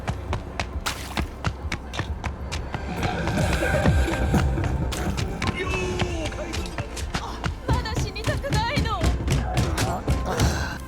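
Footsteps from Cyberpunk 2077 with the Louder Footsteps mod: quick, loud, thudding steps in a running rhythm over a game soundscape, the footwear shifting between bare feet, sneakers and heels, with a voice talking over parts.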